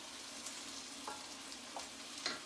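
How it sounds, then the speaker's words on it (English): Onions and garlic being stirred in a pot for a Greek-style baked fish sauce, a quiet steady sizzle with a few soft scraping stirs, close and alone without talking. "mix it all up with the onions and the garlic"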